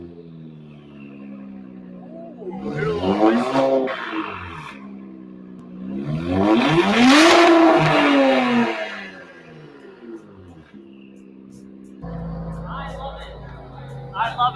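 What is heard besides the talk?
Nissan Z with X-pipe exhaust revving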